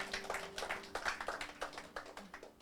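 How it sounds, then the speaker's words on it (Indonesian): A church congregation applauds during a sermon, with many hands clapping in a quick, fairly regular rhythm, heard softly and at a slight distance, with a faint steady tone beneath. "Berikan tepuk tangan bagi Tuhan kita."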